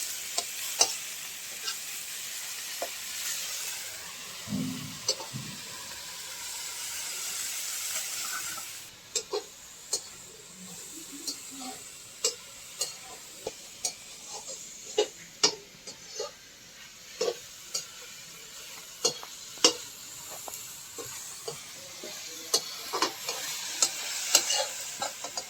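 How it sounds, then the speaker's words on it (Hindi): Tomatoes, cabbage and green onion fry in a clay pot on a wood-fired stove, with a steady sizzle and repeated sharp scrapes and taps of a stirring spoon against the pot. "टमाटर को भी 1-2 मिनट पत्ता गोभी और हरी प्याज के साथ में फ्राई कर लेती हूँ"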